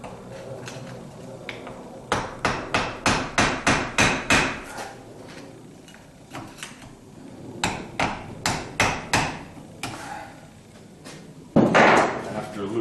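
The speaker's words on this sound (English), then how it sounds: "So I got my screwdriver and just tapped a little bit." Screwdriver tapping to free a U-joint from the half shaft of a 1976 Corvette: quick rhythmic bursts of sharp metallic taps in runs of several, close and loud, with a harder knock near the end.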